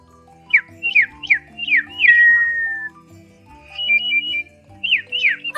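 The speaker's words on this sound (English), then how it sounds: "it's a songbird." Songbird singing in short bright chirped phrases, several quick downward-sweeping notes, one long held whistle, then more chirps after a pause, fairly close and clear with no talking.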